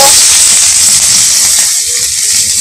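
Chopped onion goes into hot oil in a wok for a jute-leaf dish, setting off a loud, steady sizzling hiss close by that eases slightly toward the end.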